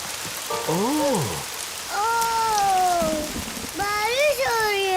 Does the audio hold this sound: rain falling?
yes